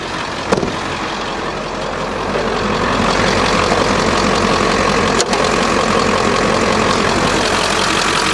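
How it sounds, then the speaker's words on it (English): The engine of a 2003 Wheeled Coach ambulance idles with the hood open, a close, steady, loud rumble that swells slightly after a few seconds, with a couple of sharp clicks and no talking. "Here's our motor. And you can hear it sounds fantastic."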